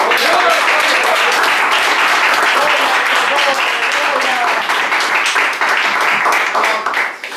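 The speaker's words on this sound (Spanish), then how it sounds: "Vamos a darle un aplauso a Cristo" A church congregation gives a long, loud burst of applause, dense clapping filling the space throughout with some voices mixed in, tapering slightly at the end.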